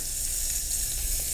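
Ribeye steak fat sizzles steadily in a hot pan, a continuous bright crackle and hiss holding close and even throughout with no talking.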